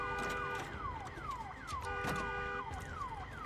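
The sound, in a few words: car alarm siren in video game Days Gone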